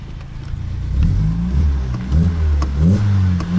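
An older car with a constantly lit engine warning lamp revs as gas is given during an emergency repair, the engine rising and falling through several loud, close surges with a whirring undertone.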